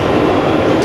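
The interior of a Walt Disney World monorail train is heard as a loud, steady, close rumble of the car in motion, brief and with no talking.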